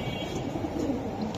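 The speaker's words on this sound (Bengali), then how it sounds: "জুমুন ভাই, এই যে এটা কি কবুতর দিলেন আপনি?" Giribaz pigeons, including silver hammer and pankhi breeds, coo at a pigeon seller's loft, forming a steady, soft, murmuring low bed of sound with no talk.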